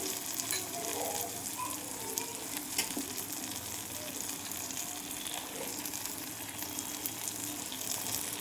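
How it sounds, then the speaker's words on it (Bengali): Spiced fish with turmeric and chilli powder frying in a pan, a steady close sizzle and crackle of hot oil with occasional stirring clicks, no voices. "এর মধ্যে হলুদ দিয়ে দেবো, গুঁড়ো লঙ্কা দেবো"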